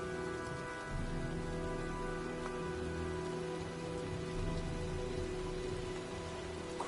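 Steady rain pours in the video game Heavy Rain, a dense continuous hiss of drops with a faint low rumble underneath, with no voices.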